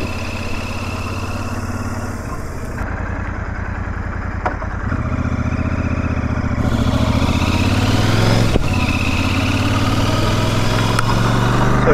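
Motorcycle at a steady 60 km/h, recorded through a chest-mounted camera microphone behind a closed helmet: a continuous low engine drone with broadband wind rush that grows slightly louder midway, loud and close throughout.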